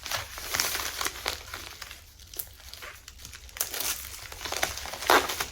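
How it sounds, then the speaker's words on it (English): Plastic bubble mailer crinkling and rustling as an item of Barbie clothing is folded into it, with irregular soft bursts of crackle and tearing-like texture, close up and fairly quiet. "I think I'm just going to put it in one of these bubble mailers."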